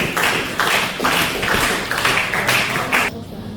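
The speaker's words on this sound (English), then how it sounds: "A round of applause as you take their seats, please." An audience at a university IT final-year project defense claps in a few bursts of fairly loud, dense applause that stops abruptly near the end.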